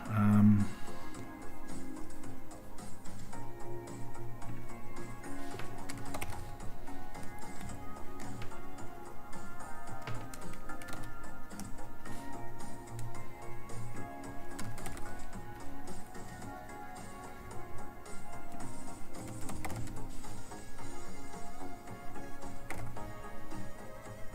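Keyboard typing while coding a bot, light scattered keystrokes over a steady background hum and music, continuous throughout with no clear speech.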